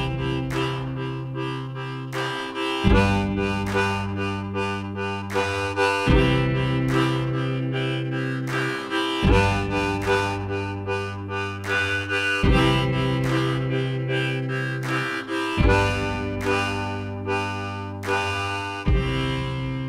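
Harmonica played solo in a steady eighth-note rhythm, repeating chords that shift every few seconds with pulsing, distinct breaths, close and clear, no talking.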